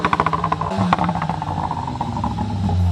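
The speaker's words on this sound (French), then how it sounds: "Au niveau de la sonorité de l'échappement, ça donne ça." Tuned Volkswagen Golf 7 GTI exhaust burbling and clattering close by, with an uneven, rough idle rhythm that swells slightly near the end.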